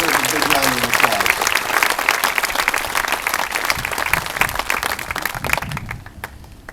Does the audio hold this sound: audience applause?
yes